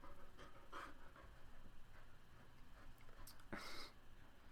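Dog panting in a bedroom, quick soft breathy huffs close by and faint, with a few louder rustling bursts near the end.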